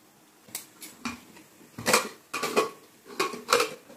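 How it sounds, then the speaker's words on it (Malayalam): A pressure cooker used for brinjal pachadi is opened in a home kitchen: a few sharp metallic clinks and clatters of the lid and weight, close and fairly loud, separated by short pauses. "കുക്കർ തുറന്നു"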